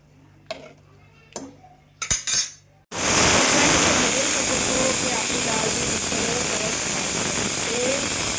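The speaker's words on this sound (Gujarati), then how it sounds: "હવે આપણે 3 વિસલ વગાડી લેશું" A pressure cooker of moong dal blasts into a loud, sustained steam whistle hiss after a few clinks and knocks of cookware, the whistle dominating at close range.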